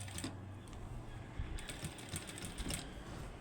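A sewing machine stitches hooks onto fabric in short, quiet bursts of rapid clicking and whirring, separated by brief pauses, with no talking.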